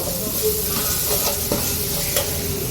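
Mango gojju masala frying in oil, a steady close crackling sizzle with occasional scrapes and taps of stirring, no voices.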